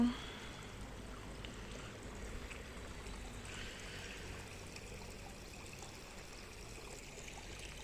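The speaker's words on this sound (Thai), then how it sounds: "น้ำไหล" Water flows steadily in a soft, continuous rush, fairly faint and even throughout with no voices.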